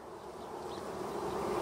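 Honey bees buzz inside a crowded hive box, a dense, continuous drone that swells slightly louder toward the end, with no voices.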